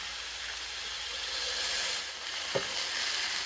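A smashburger patty sizzles steadily in a hot pan while a pot presses it down, a continuous bright hiss with one brief clunk partway through and no talking.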